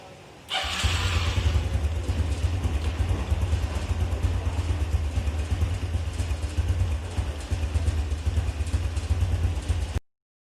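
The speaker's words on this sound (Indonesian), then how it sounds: "Untuk menyetel putaran stasioner kita memerlukan mesin pada suhu kerjanya, maka perlu dipanaskan lebih dahulu." A motorcycle engine started and left warming at idle before an idle-speed adjustment, a steady low rumbling putter running close and even for several seconds, then cutting off abruptly.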